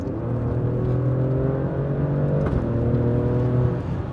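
Alfa Romeo Stelvio Quadrifoglio crossover's engine running after start, a loud, close, steady rumbling exhaust drone with a brief blip midway, heard alone without talk.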